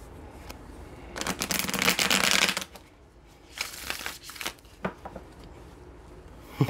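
Tarot cards are shuffled in two long riffling bursts, close and fairly loud, separated by a quieter stretch of softer handling taps and slides.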